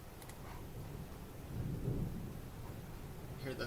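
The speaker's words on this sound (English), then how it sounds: "Hear the thunder here at the station now." Thunder from a storm rolls in as a low, continuous rumble that swells in the middle, with rain noise around it, heard faintly at a weather station.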